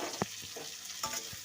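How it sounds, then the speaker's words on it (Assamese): Mango pieces frying in a pan for a sour mango dish: a soft, steady sizzle with a few sharp clicks of a utensil stirring, close and fairly quiet. "এয়া মই আমখিনি এতিয়া ভাজি আছোঁ অলপ সময়।"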